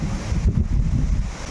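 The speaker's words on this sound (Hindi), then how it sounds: "कितनी भयंकर, कितनी तेज़ वाली बारिश हो रही है।" Heavy monsoon rain pouring outside a hostel, a loud, steady low rushing roar with wind-like gusts, close and continuous, with no voices over it.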